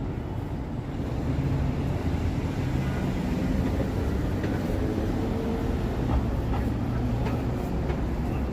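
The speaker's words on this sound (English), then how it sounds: "You can hear a subway train passing underneath here." A subway train rumbling through a tunnel beneath a downtown Toronto street near Union Station, heard as a steady low roar from below that holds for several seconds, mixed with faint street ambience.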